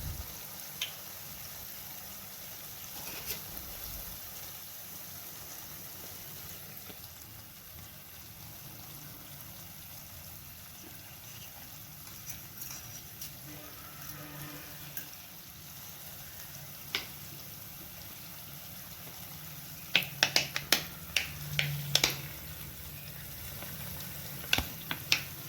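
Wheat flour jalebi batter fries in hot oil, a steady soft bubbling sizzle throughout, with a few sharper crackles and pops toward the end.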